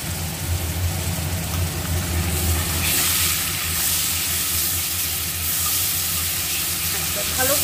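A ginger-garlic spice paste for fish curry fries and is worked in a pan, giving a steady close hiss and sizzle with a low rumbling hum underneath and no talk.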